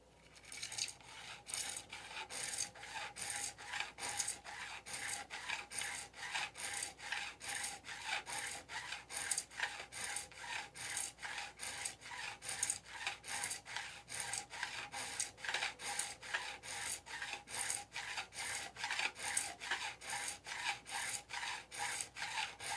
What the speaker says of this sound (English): So I may have to use the other side of the file. So let me try this one.